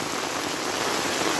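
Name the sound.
heavy rain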